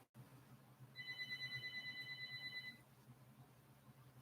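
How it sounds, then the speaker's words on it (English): A house phone rings in a home, a steady electronic trill repeating for about two seconds at moderate level, then stopping, with no talking over it. "My house phone is ringing."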